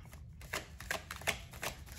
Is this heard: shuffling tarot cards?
yes